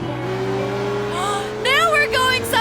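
A car speeding in the video game Sleeping Dogs, its engine droning steadily and then revving hard with rising, whining pitch sweeps near the end of a short burst.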